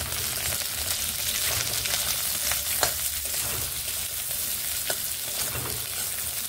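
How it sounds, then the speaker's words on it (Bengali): Beans are frying with salt in oil in a pan, giving a continuous hissing sizzle with occasional faint stirring knocks, close and even in level, with no talking. "নুন দিয়ে আমি বিনসগুলোকে বেশ ভালোভাবে ভেজে নেব।"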